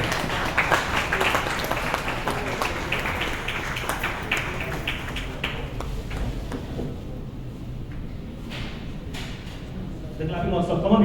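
An audience applauds for doctors and a man named Naveen at a consumer rights organization event in Bangalore. Dense clapping runs steadily under ongoing talk, then thins out before a fresh burst near the end.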